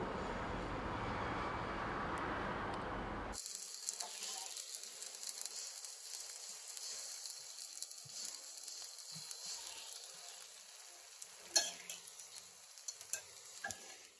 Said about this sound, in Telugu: సో ఇలా యాడ్ చేసిన తర్వాత దీనిపైన మరి దోశ బ్యాటర్ వేయాలి